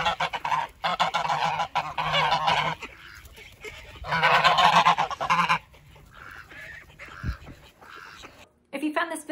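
Domestic geese honk loudly in harsh, repeated bursts, several calling at once and pausing between bouts, with a short stretch of quieter, scattered calls in the middle.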